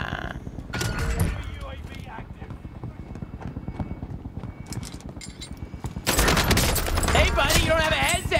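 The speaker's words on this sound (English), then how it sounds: "He's shooting me!" Gunfire in a first-person multiplayer video game, with sharp shots and bursts scattered through the clip and growing dense and loud near the end, while players talk over it throughout.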